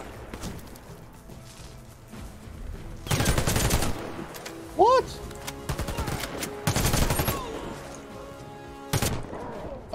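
Bursts of gunfire ring out in a Warface PvE match: a dense spray near the start, then two or three sharp volleys. Each is loud and close, with quieter game noise in the gaps.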